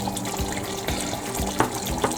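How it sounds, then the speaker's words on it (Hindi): Water from a small bowl is poured into a pot of chicken korma, giving a soft, steady trickling and splashing with a few brief louder splashes, quiet and close, with no talking. "ये एक कटोरी पानी में इसमें डाल लेंगे"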